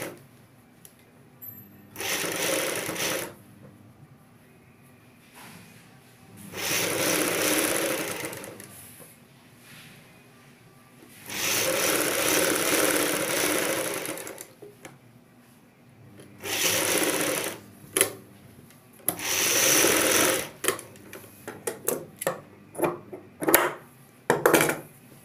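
Sewing machine stitching along the edge of a fabric piece for a front V neck, in four or five separate bursts of rapid whirring, the final one breaking into short stop-start runs, with quiet gaps between.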